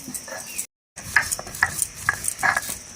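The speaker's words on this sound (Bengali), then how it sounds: "ভেজে রাখা ধনে, জিরে আর গরম মশলার এলাচ সুন্দর করে ভেজে নিচ্ছি ভাজা মশলাটাকে।" Coriander, cumin and cardamom are stir-fried in a pan with a spoon, giving close, irregular scraping clinks over a faint sizzle, after a brief silent gap near the start.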